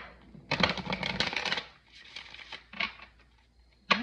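Moon oracle cards are drawn and shuffled from a deck, giving close, crisp flurries of papery riffling and slapping, then shorter shuffles and a final sharp snap of a card.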